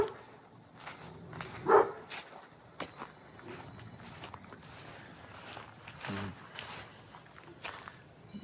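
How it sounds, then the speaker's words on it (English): Two dogs next door bark beside a house's side yard and gate, giving a couple of short, fairly distant outbursts several seconds apart over quiet outdoor background. "it appears the neighbor has 2 dogs."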